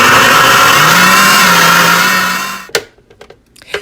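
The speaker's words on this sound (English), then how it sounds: "let's blend it completely" A blender whirs steadily on green enchilada sauce with garlic cloves, loud and continuous, then cuts off abruptly, leaving a few faint clicks and knocks.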